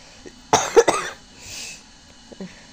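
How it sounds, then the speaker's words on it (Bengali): A person sick with dengue fever coughs hard indoors, a close cluster of two or three harsh coughs followed later by a fainter throat-clearing hack. "কাশি মানে অতিরিক্ত কাশি"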